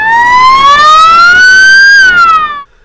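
A wailing ambulance siren, carrying a patient and stuck in heavy traffic in Trabzon, sweeps steadily upward in pitch, then drops and cuts off near the end. It is loud and close, and no voices are heard.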